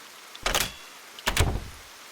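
Two separate door sounds close by in a quiet room, each a solid thud and rattle of an apartment front door shutting and latching, spaced about a second apart, with no voices.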